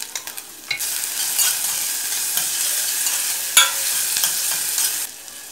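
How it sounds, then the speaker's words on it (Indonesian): Vegetables sauté in a hot pan with onion and garlic, sizzling steadily up close while a utensil scrapes and stirs, with a few sharper clacks against the pan. "sekarang saya mau tumis sayur dulu buat saya"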